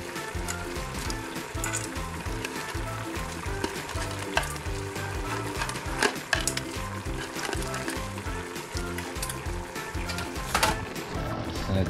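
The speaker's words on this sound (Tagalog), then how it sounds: "Ayan, kumukulo na siya. Talagyan na. Talagyan natin ang crab." Crab cooks in a pot of boiling liquid alongside squid, a dense, steady bubbling and sizzling with a rhythmic low rumble from the boil, fairly loud and close, with occasional clinks and no talk.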